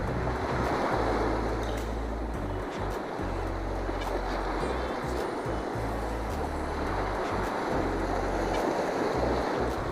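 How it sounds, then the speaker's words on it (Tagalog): Strong river current rushing below Bonneville Dam during shad fishing, a loud, steady roar of turbulent water with wind buffeting the microphone throughout, and no talk. "Kaya, lakas ng agos."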